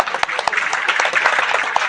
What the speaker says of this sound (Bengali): জোরে করতালি হয়ে যায়।